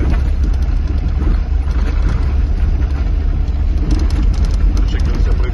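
A car drives over a terrible rough rural road at about 30, its steady engine rumble and jolting rattles loud and continuous while someone talks over it.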